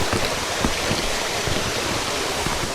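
Rushing water at Myeongji Falls, a 7–8 m waterfall with a pool below it on Myeongjisan mountain, heard as a loud, steady broadband roar that fills the whole stretch without a break.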